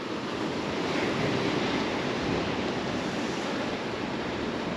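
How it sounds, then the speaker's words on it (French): Rough sea at Torrenuva churns in a dense, continuous wash of surf while wind roars steadily across the microphone, loud and unbroken with no voices. "la mer est un peu plus agitée que tout à l'heure"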